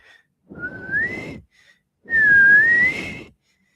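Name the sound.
imitated whistling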